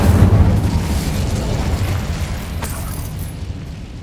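The Incendio fire spell from Hogwarts Legacy goes off as a loud whooshing blast that slowly fades into a rumbling crackle, with a faint sharp crack near the end.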